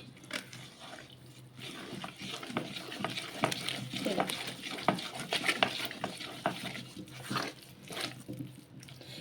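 Parle-G biscuit cake batter being stirred in a bowl after a splash of oil, a steady, moderately close scraping and mixing sound with soft wet clicks and no talk.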